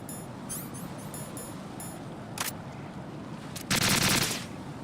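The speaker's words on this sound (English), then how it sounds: "That's how it sounds like when it's without suppressor." An AK rifle fires with no suppressor in Metal Gear Solid 2, loud sharp cracks in short bursts, a quick run of shots early, a single burst midway and a longer rapid volley near the end.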